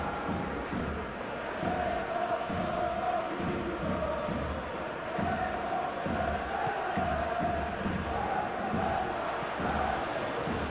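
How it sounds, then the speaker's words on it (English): Stadium crowd at a Sevilla vs Real Sociedad football match in a video game, a steady dense roar of cheering and chanting that runs throughout with rhythmic swells. "the crowd have tried to spark some excitement, but to no avail"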